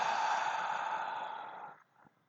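A group of people at a spiritual service draw one long, steady breath together, a broad airy rush that fades out, followed by a faint soft exhale.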